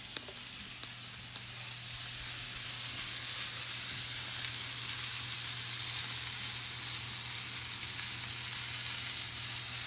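A thick sirloin steak sizzles in a hot pan with a steady, bright frying hiss and faint crackle that stays even and close throughout, with a low hum beneath.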